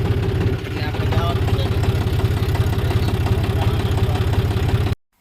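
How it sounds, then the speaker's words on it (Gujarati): A tractor's diesel engine runs steadily nearby on a cumin farm with a loud, rhythmic low chugging that carries on without pause until it cuts off at the end. "ટ્રેક્ટર ફરાય છે હવે"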